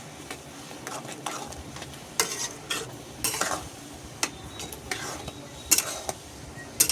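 Raw mango pickle with Kashmiri chili simmers in a pan, a soft bubbling sizzle under repeated scraping stirs and occasional metallic clinks of the spoon against the pot, close and fairly steady.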